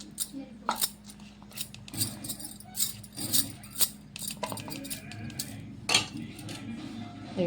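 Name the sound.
stirring ground peanuts and coconut into jaggery syrup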